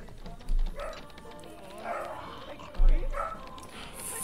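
Dogs in The Sims 2 give two distinct loud barks, with yips and whimpering between them, over game ambience.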